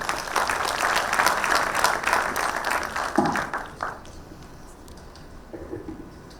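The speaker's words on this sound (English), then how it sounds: "Can we have a big round of applause?" Conference audience applauding at an aviation event, loud sustained clapping for about three seconds that then thins out and fades, leaving a quieter room with scattered claps trailing off.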